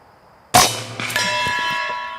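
An Air Force .25 caliber PCP air rifle, filled from an air bottle, fires one sharp, loud report, followed by a lingering metallic ringing that hangs on for more than a second.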